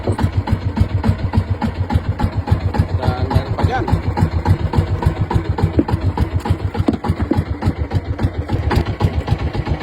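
A small boat engine chugs steadily at idle, a rapid even putter running throughout, with a voice speaking briefly over it.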